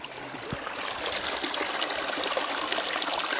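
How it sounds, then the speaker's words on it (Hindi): A waterfall stream in a forest rushes steadily nearby, a continuous broad wash of flowing water with no voices over it. "एक झरना इधर है"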